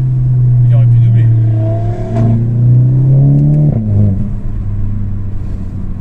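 A black Audi RS3 drives past and accelerates hard, its loud engine note climbing in pitch through several gear pulls, close and dominant with some voices underneath.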